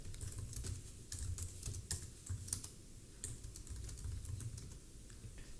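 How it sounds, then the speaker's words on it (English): Fast, continuous clicking of keys on a computer keyboard as someone types, light and fairly quiet, with irregular bursts and short pauses over a faint low background hum. "and I start typing again."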